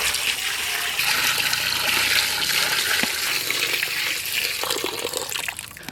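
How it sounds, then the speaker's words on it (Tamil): Water gushes into a cooking pot over cleaned goat legs for soup, a loud continuous splashing pour that eases slightly toward the end. "ஆட்டுக்கால் தாழ்ற அளவுக்கு தண்ணியை சேர்த்துக்கொள்வோம்."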